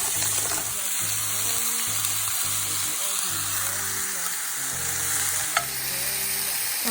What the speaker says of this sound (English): I'm sauteing the veggies.